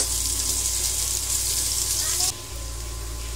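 Onion sautéing in a hot pan for pork humba gives a loud, steady hiss of frying that cuts off abruptly and gives way to a quieter, low background hum.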